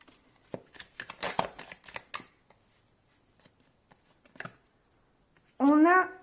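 Tarot cards being shuffled and drawn, a close papery flutter of riffling bursts followed by a few soft isolated flicks, then a voice begins speaking at the end.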